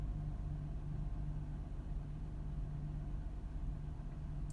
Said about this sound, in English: it's definitely got an occasional misfire.